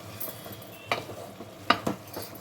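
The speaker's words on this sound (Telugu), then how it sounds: "ఇప్పుడు కలుపుకోవాలి, పైకి కిందకి." A spoon scrapes and stirs gongura dry prawn curry in a pot, turning it top to bottom, with a few distinct clattering strokes against the pot over a soft bubbling simmer.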